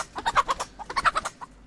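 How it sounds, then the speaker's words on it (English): Pixel Piracy video game chicken clucking in a quick, rhythmic run of short squawky clucks, two bursts of about six notes each, close and clear with no talk over it. "That is one weird sound, and that is one weird-looking chicken as well."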